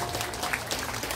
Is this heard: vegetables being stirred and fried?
no